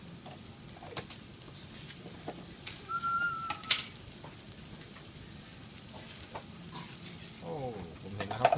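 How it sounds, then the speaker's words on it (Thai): Ingredients being dry-roasted in a pan without oil, with rat meat being cooked: a quiet ongoing sizzle and crackle, with scattered scraping stirs of a utensil against the pan and a faint whistle-like tone in the background. "วันนี้ก็เขาคั่วสดๆเลยไม่ได้ใส่น้ำมันขึ้นอะไรนะครับ"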